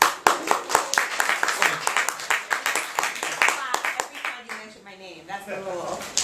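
Audience applause fills a room at a talk in Jerusalem's Tmol Shilshom café, a dense run of claps for several seconds with cheering voices mixed in, thinning slightly toward the end.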